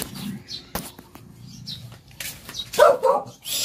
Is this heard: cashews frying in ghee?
no